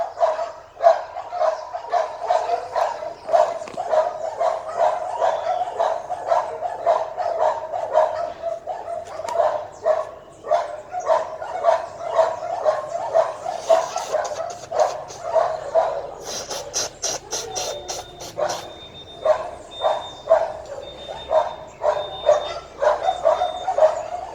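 Dogs bark repeatedly at a steady rhythm, fairly near, with some yips mixed in, continuing throughout with no talking.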